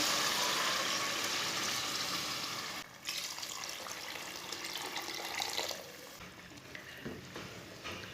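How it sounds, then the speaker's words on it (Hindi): Water splashes into a cooking pot of browned beef gosht, a continuous close pour that fades slightly partway through before tapering off into scattered small clinks. "2 गिलास पानी डाल लेंगे।"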